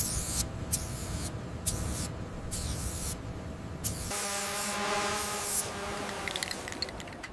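Continuous close hiss of yellow indicator paint being sprayed onto an aircraft part in short repeated bursts, with faint rubbing between them.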